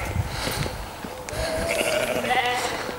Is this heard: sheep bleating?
yes